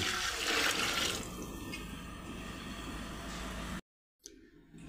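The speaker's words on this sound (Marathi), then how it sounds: "एक गंज भरून पाणी घालतोय मी।" A potful of water pours into a besan and curd mixture, a rushing splash that starts loud and gradually thins before cutting off, then a brief trickle.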